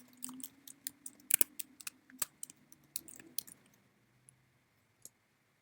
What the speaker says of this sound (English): I just click in the cell and start typing.